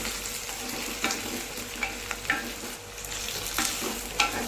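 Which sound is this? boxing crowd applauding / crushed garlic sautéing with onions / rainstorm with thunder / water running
crushed garlic sautéing with onions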